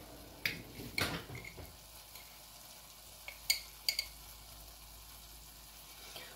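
Masala of dhania (coriander) powder and garam masala cooking in a pan for a paneer dish, with a quiet steady sizzle and a few sharp spoon clinks and scrapes against the pan.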